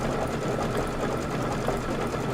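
Embroidery-capable sewing machine working a heart decorative stitch for a Kimberbell table topper, a steady, close mechanical whir and rapid needle hum running continuously without pause.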